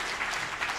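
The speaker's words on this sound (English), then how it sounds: "Please give them another round of applause." An audience at a White House arts and criminal-justice reform event applauds, a brief steady burst of many hands clapping at moderate volume.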